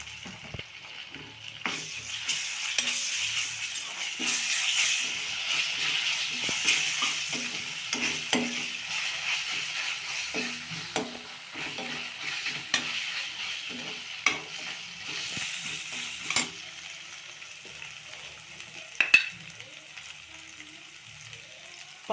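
Ginger garlic paste fries in a pan for chicken curry, a continuous close sizzle broken by frequent spoon-stirring scrapes and clinks, with a sharper knock near the end and no talking.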